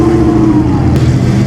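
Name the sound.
8-cylinder Alfa Romeo car engine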